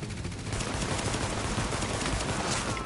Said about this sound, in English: I'm using my pistol.